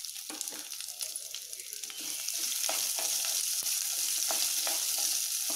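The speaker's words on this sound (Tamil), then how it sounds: "எண்ணெயில் நல்லா வதங்கட்டும்" Chopped large onion sautéing in hot oil for a tomato and chana dal chutney, with a steady soft sizzle that grows fuller midway and scattered scraping clicks of stirring.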